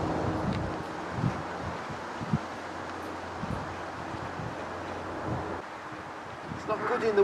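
Outdoor wind buffeting a microphone, a steady broadband rumble with gusty swells and rustle throughout, rising slightly at the end.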